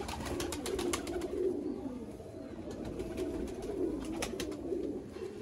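Sialkoti pigeons coo in a loft, a low, rolling murmur from several birds repeating steadily, with occasional sharp clicks and flutters over it.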